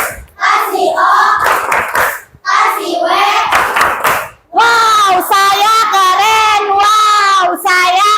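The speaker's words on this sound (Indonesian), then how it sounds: "Tepuk kasih wow untuk kita semua" A class of schoolchildren with their teacher in an Indonesian classroom does the rhythmic clapping chant 'tepuk kasih wow', bursts of group claps alternating with children's voices chanting in unison, close and loud.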